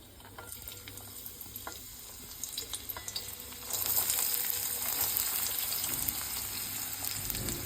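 Carrot and onion fry in a pan for egg Maggi, a faint crackle with light stirring that swells midway into a louder, denser hiss, heard up close and without talking.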